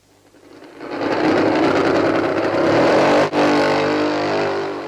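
A 1950 Isle of Man TT racing motorcycle being push-started on a cold morning, its engine catching and holding a loud, steady, buzzing roar close by, with one brief dropout near the end.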